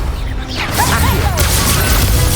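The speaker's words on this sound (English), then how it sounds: "Accio." The Accio pulling spell is cast during a Hogwarts Legacy duel, a loud swooshing, shimmering pull with sweeping tones over a constant bed of combat sound and music.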